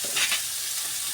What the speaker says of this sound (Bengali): হালকা করে একটু নেড়ে চেড়ে নেবো যেন হলুদের গন্ধটা একটু চলে যায়